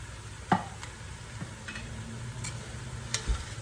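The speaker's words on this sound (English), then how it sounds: "give it a stir to get the onions and the meat all incorporated together" Meat and softened onions are stirred together in a quietly sizzling pot, the low steady crackle broken by a few distinct scraping strokes and clicks of the spoon.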